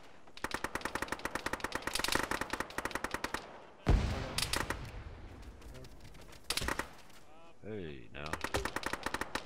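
Enemy gunfire in the ShackTac Arma video game on the Fox Hill mission, a loud machine gun firing long rapid bursts with short pauses between them, while a player briefly speaks.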